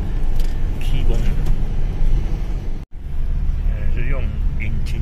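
A scooter rolls down a winding mountain road in third gear using engine braking, its low steady drone and wind rumble running continuously under someone talking, with one brief dropout midway.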